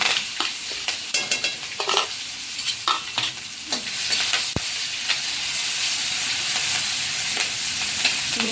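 Dried chillies, curry leaves and green chilli paste hit hot oil with tempered cumin and asafoetida, giving a steady close sizzle with bursts of crackle and spatter, stirred now and then with a few spoon scrapes, and no talking.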